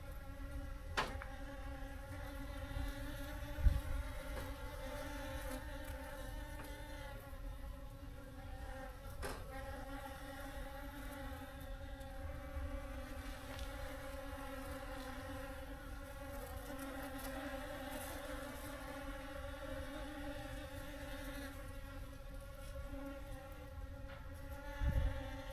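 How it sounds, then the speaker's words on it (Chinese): Honeybees gather nectar from flowering tea bushes outdoors in the early morning, a dense, continuous droning buzz of many insects, steady and close throughout with occasional louder passes near the microphone. "我们门前的茶树有花，然后有蜜蜂来采蜜"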